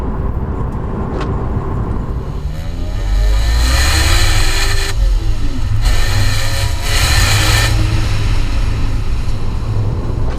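A BMW Z4M Roadster engine revs hard while driving on a wet road, climbing and falling through several loud, close bursts of acceleration over a rumbling base.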